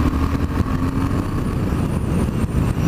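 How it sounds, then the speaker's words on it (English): A 2016 Triumph Thruxton R with a 270-degree firing order rumbles at steady revs, a dense, low, continuous engine drone that is loud and close, with no talking. "kept the 270-degree firing order, and it sounds really nice, this bike."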